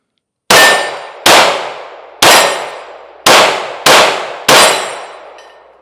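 Hellcat Pro Comp pistol fires six shots outdoors, each crack followed by a bright ringing clang of a steel target that decays slowly, spaced unevenly about a second apart, loud and close.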